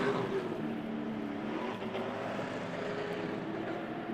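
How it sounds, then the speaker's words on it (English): A 1JZ engine in a drift car screams as it bounces on the rev limiter at a drift exhibition, a steady, loud, continuous engine roar with a harsh buzzing edge that holds throughout. "You can hear that 1J just living on the limiter."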